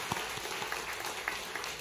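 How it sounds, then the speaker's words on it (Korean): Church congregation clapping to welcome returning visitors at a homecoming worship service, a short, moderately loud burst of applause with scattered individual claps throughout. "오신 분들을 향해 우리 박수로 우리 환영하고 축복하겠습니다"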